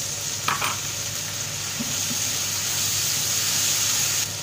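Water splashes into a pan of sizzling stir-fried beef with mushrooms, raising a loud, steady hiss of frying and steam that runs close and unbroken, with no talking.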